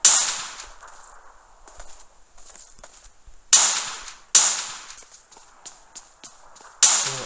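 Sharp, snappy pistol shots from a 7.62 pistol in the mobile shooter PUBG Mobile, four spaced cracks over a few seconds with faint clicks and movement between them, no talking.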